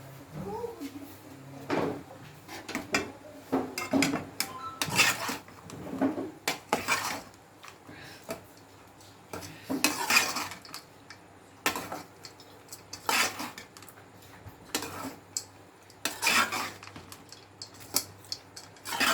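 A spoon scrapes and clinks against a pan while cooked rice is mixed with masala for Chennai-style tamarind rice, irregular metallic knocks and scrapes close by, with a voice speaking intermittently in between.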